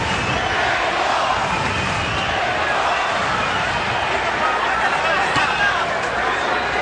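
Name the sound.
boxing crowd cheering at MGM Grand Garden Arena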